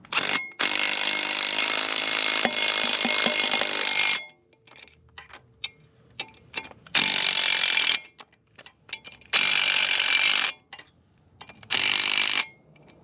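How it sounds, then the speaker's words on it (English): A power tool drives a bolt in with heavy force to press a brake rotor off a Jeep axle, sounding in several loud, close bursts of a few seconds each, separated by quiet gaps with small clanks. "you take a bolt, then you power it in with excessive force, and it acts like a press"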